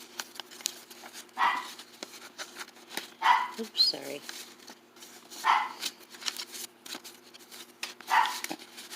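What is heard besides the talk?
dog barking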